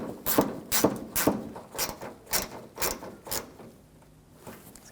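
Ratchet tightening fasteners on the front lower grille of a 2007-2013 BMW 328i: about nine quick bursts of clicking, close and fairly loud, each swing a short rasp, spaced roughly evenly and fading toward the end.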